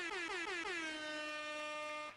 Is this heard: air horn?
yes